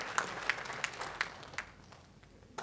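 A small church congregation claps during a Sunday service, sparse, rhythmic hand claps at a moderate distance that fade out after a couple of seconds.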